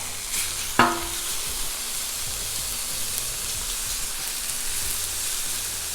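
Diced pork chop pieces fry on a Blackstone griddle with a dense, steady sizzle, with one sharp scrape or clack early on and no talk.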